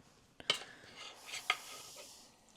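A spoon scrapes and clinks against a pot while moving soft, tender beef bourguignon, two sharp metallic taps amid faint wet stirring, quiet and close.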